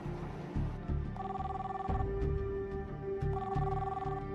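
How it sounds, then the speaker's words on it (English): Unanswered calls to a cell phone: repeated electronic ringing tones in two bursts over a steady background hum, with no voice answering. "Tom keeps trying her cell phone."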